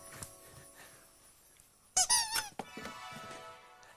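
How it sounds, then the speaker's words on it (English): Squeaky rubber toy bones for dogs give a quick burst of several sharp, high squeaks in the middle, with quiet room sound before and a softer squeak or two after. "They're very squeaky, aren't they?"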